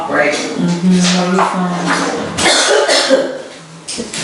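A voice speaks amid a fit of harsh coughing and throat clearing, loud and close, with a few clinks of dishes.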